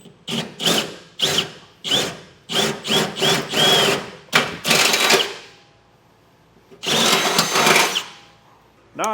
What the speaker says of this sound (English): we're going to come back through with our 17/32 drill bit and drill out all of our holes.